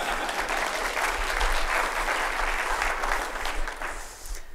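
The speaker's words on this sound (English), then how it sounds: "Wait for applause." Lecture audience at the MACNA 2014 aquarium conference applauding the speaker before her talk on breeding dwarf cuttlefish, a steady dense wash of many hands clapping throughout, tapering slightly near the end.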